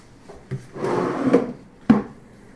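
A wooden soft-close utensil drawer in a kitchen island slides along its runners with a soft rumble, then settles closed with a muffled thud; two light knocks come before it.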